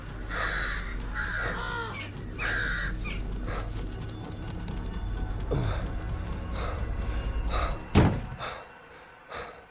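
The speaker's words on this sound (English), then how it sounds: "Oh no, crows." Virus-infected crows in a horror video game caw harshly in repeated bursts, several overlapping calls, with a loud slam-like hit near the end and a gasp, all without speech.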